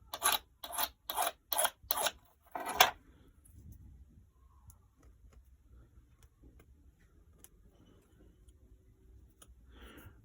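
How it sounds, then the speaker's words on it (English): A small warding file rasps burrs off a freshly machine-cut key in five quick, evenly spaced strokes and then a sixth. Near silence follows, broken only by faint ticks and light handling. "Just check for any burrs on the key. Remove them if so with a small warding file."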